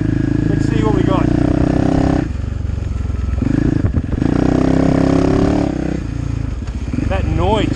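A 2020 KTM 450 Rally Dakar motorcycle engine revving hard and close, several loud rising and falling throttle blips with brief dips between them, and someone speaking over it at moments.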